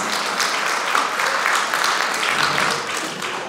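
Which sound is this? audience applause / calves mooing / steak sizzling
audience applause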